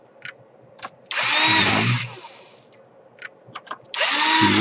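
Power screwdriver backing screws out of an MSI MS-1759 laptop during a power jack repair, two loud close whirring bursts about a second long, separated by small clicks and handling noises.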